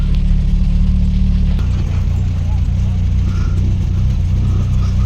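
A 200cc motorbike fitted with a racing exhaust pipe rumbles with a deep, steady engine drone that shifts partway through, close by at a worksite, with voices in the background.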